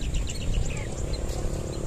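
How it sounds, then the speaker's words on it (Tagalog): Birds chirp over farm fields, several faint high tweets scattered across a short stretch above a rumbling outdoor background. "Kung mapapansin nyo, may mga nag-i-enjoy pong mga ibon dyan."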